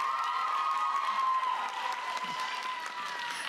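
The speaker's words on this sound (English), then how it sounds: "let's give Penns Grove a big round of applause" An audience at a school Shakespeare festival applauds in a steady wash of clapping with some cheering, fairly loud and fading slightly toward the end.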